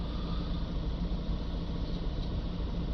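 A Renault Trafic van's cold engine ticks over at idle, a steady low rumble with an even, continuous hum and no change in revs.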